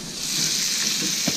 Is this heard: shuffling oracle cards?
no